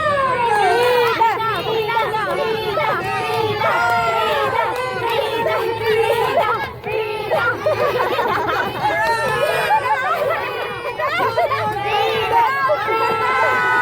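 A crowd of children at a bird show at Emirates Park Zoo cheer and chant for the bird Frida, their excited voices rising and overlapping in a loud, sustained roar with rhythmic shouted repetitions.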